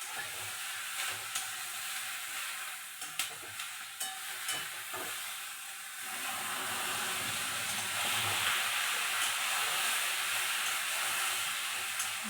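Ginger and green chili paste frying as a masala, a steady hissing sizzle with spoon clinks and stirring early on, then a fuller, louder sizzle later, close by with no talk.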